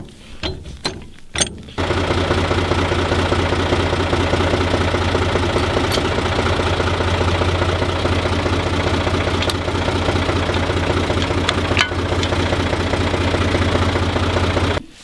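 A Renault 461 tractor engine starts after a few clunks and knocks, then settles into a loud, steady diesel idle with a constant low throb, close by, running for the rest of the clip with no talking.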